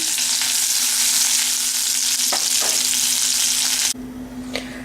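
Okra sizzles hard in a pan of hot sesame oil, a loud, continuous crackling that suddenly drops to a quieter fry near the end, with a couple of stirring clinks along the way.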